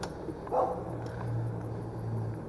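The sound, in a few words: dog barking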